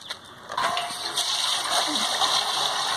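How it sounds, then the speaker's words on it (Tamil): Water pours and splashes steadily into a pot set over a fire, a continuous gushing that runs for a few seconds with background noise and no talk. "சட்டியில தண்ணி ஊத்தணும்ல."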